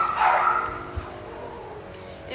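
Several pet dogs barking excitedly indoors, a burst of yapping and whining that peaks early, then fades to a lower continuous background with a faint voice underneath.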